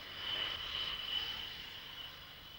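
A MiG-29 Fulcrum jet taxis during ground trials, a faint distant turbine whine with a thin high-pitched tone riding over a soft steady rush of engine noise.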